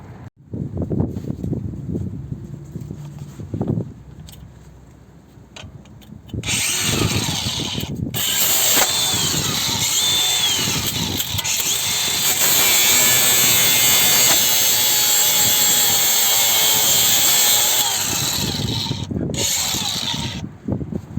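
Power tool cutting through a bolt on a Mercedes ML350 strut during a strut conversion, heard as loud, sustained high-pitched grinding that runs for most of the clip after a stretch of rattling handling and mechanical noise, with no talk.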